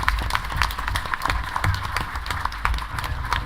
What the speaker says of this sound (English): just get a round of applause for Nicole Oliver